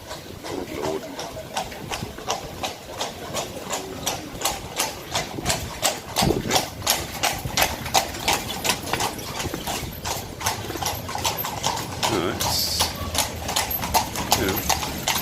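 Horse hooves clip-clop steadily on the streets of Bruges in the video game Bruges of the Dead, with several horses passing together in an even rhythm, loud and close.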